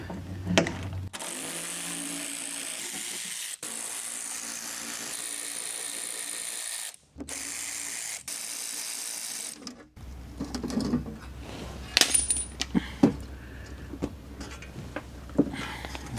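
13 mm bolts are loosened on a 2020 Jeep while a spare tire is being fitted, with a steady mechanical whirring for several seconds, a short gap, then scattered clicks and metallic clanks up close.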